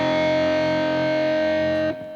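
A 13/11 minor third in 26-note-per-octave tuning, played as a sustained distorted electric chord with a rich, slightly beating tone that holds steadily for about two seconds, then is abruptly cut off.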